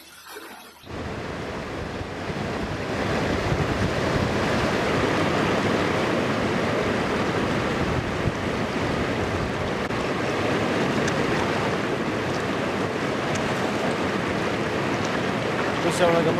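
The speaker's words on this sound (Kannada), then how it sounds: "ಬೆಳಗಾವಿಯ ಬಹುತೇಕ ಭಾಗದಲ್ಲಿ ನೀರು ರಸ್ತೆ ಮೇಲೆ ಹೆಚ್ಚಿನ ಪ್ರಮಾಣದಲ್ಲಿ ಹರಿತಾ ಇದೆ." Floodwater after heavy rain in Maharashtra rushes across roads in Belagavi, a loud, continuous roar of flowing water with no voices.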